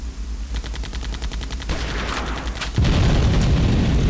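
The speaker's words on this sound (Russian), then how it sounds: "Есть взрыв." A video game explosion erupts after a rapid burst of gunfire-like crackling, the blast arriving as a loud, dense low rumble near the end.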